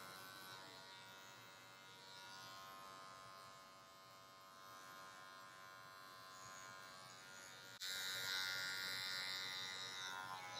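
Electric hair clippers with a full blade cutting afro hair for a low fade, a steady close buzz that is fairly quiet at first and grows louder and brighter partway through.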